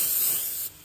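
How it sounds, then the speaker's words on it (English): Cooking spray hissing in one short, loud, close burst over a pan while preparing old-fashioned Philippine beefsteak, cutting off abruptly after under a second. "Now I'm going to spray a little bit."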